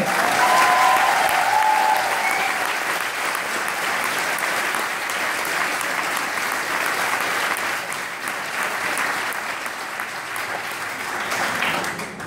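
Sustained applause from a large audience at a graduation speech, dense steady clapping that carries on for the whole stretch, with a faint cheer near the start.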